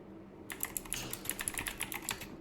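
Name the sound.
typing a command on a computer keyboard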